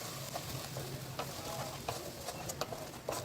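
Grated coconut filling for stuffed pointed gourd (potoler dolma) is stirred in a hot pan, with a steady soft sizzle and several light scraping strokes spread across the moment.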